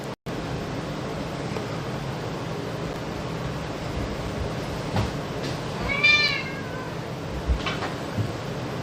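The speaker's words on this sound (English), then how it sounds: "That's my cat, dude." A house cat meows a few times over a steady background hum in a home, the calls short and moderately close, with a quieter meow near the end.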